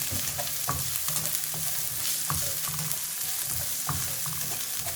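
Chopped onion and capsicum stirred and sautéing in a pan, a steady close sizzle broken by repeated scraping stirs of the spoon, no talk.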